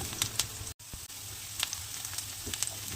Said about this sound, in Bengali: নেড়ে চেড়ে পেঁয়াজটা হালকা লালচে করে ভেজে নেব।